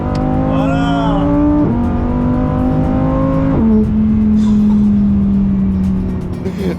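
A Lamborghini Huracán Tecnica engine revs and accelerates loudly and close, its pitch climbing through several gear changes in a continuous roar.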